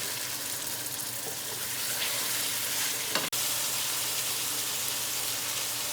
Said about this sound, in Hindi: 2 से 3 मिनट के लिए अच्छे से मैंने चिकन को फ्राई कर लिया है